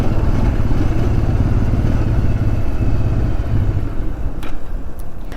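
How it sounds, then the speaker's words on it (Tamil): A Bajaj Pulsar 180 motorcycle running out of petrol rumbles along loud and close, its engine note uneven and sputtering under steady road and wind noise. "வண்டி வந்து பார்த்திங்கன்னா ஃபுல்லாக அடிச்சடிச்சு தாங்க போய்ட்டுருக்குது"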